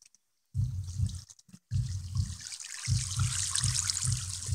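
Water running in a mining video game, a steady gurgling trickle that starts after a short silence, stutters briefly, then flows continuously with a soft rhythmic low pulse underneath.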